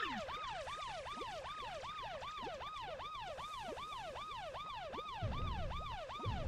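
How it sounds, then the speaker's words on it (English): A Kingdom Hearts low-health warning siren wails in a steady rising-and-falling loop, repeating evenly about twice a second throughout, with a low rumbling burst joining near the end. "This siren is what you hear when you're on low health in Kingdom Hearts."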